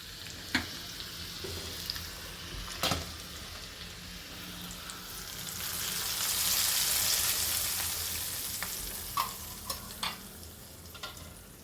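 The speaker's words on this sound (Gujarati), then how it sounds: "લસણ અહીંયા આપણું બ્રાઉન કલરનું થઈ ગયું છે. તો ઉપરથી આપણે પાલક પનીરમાં નાખીશું." Browned garlic tempering hisses softly as it is poured over palak paneer, a gentle sizzle that swells in the middle, punctuated by a few sharp clinks of a spoon against the pan.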